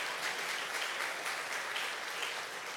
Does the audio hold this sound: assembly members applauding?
yes